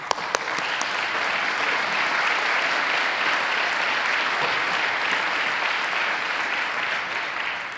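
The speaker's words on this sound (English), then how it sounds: "Let us give him a big round of applause." A round of applause for a speaker at an interfaith leadership award event, opening with a few sharp claps that quickly swell into loud, dense, sustained clapping from a large audience, holding steady to the end.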